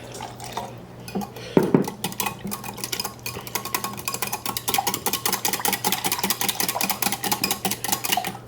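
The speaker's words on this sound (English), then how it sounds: "Whisk them up." Eggs are whisked in a bowl for a batter, a quick, steady run of rhythmic clinking and tapping that starts after a brief clatter and keeps a brisk pace, close and fairly loud, with no talking.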